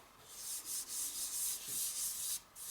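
Marquetry panel being sanded by hand with 240 grit sandpaper, a close, steady series of rhythmic rubbing strokes, about eight in a row.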